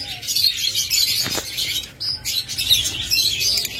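Caged pet birds, violet-line mutation pairs for sale, chirp and tweet in quick bright bursts close at hand, one brief flutter of wings midway, no voices.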